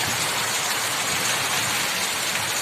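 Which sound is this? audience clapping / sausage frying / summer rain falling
summer rain falling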